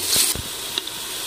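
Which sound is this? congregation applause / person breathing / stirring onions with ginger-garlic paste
stirring onions with ginger-garlic paste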